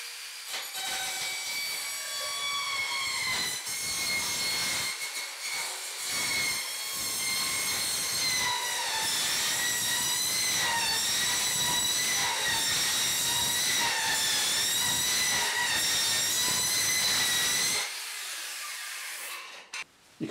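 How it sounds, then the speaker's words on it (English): An Evolution Rage twin-blade saw cuts through 316 stainless steel sheet with a loud, continuous, harsh grinding roar and a high ringing whine for about eighteen seconds, then drops off abruptly near the end. "It can be difficult cutting steel sheet like this."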